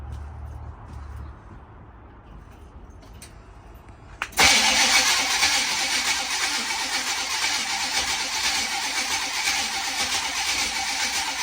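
A square-body truck fitted with a Holley Sniper fuel injection system is cranked after a few seconds of quiet, then a loud, steady, roaring engine noise continues close by to the end.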